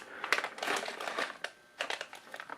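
Fritos Texas Grill Honey Barbecue corn chips bag being cut open, crisp crinkling and snipping of the foil bag in short close bursts with a brief pause midway.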